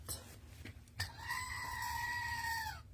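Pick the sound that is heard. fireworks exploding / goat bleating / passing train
goat bleating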